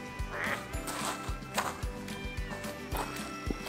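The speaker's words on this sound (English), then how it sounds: "I'm scaring the ducks" Ducks quacking outdoors in repeated short bursts, fairly close, over a busy mix of background noise.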